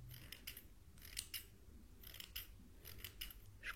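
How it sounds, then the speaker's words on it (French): Scissors snip close to the ear in a soft-spoken French ASMR ear surgery roleplay, quiet crisp cuts arriving in small clusters of two or three over a faint background hiss, with no talking. "Je coupe zone par zone"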